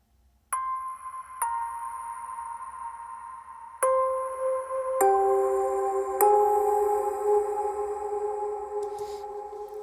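Keyboard chords in a mix of a cover, each note or chord struck and left ringing in a big, long reverb tail, building from single tones to fuller chords, with no talk over them.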